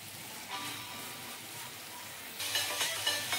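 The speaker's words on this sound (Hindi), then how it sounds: "तो इसी तरह से भून लीजिएगा इसको, कम से कम 5 से 6 मिनट तक इसी तरह से चलाते हुए भूनना होगा।" Grated carrots for gajar halwa roasting in a pan while being stirred, a soft, steady sizzle with faint scraping that grows louder and brighter near the end.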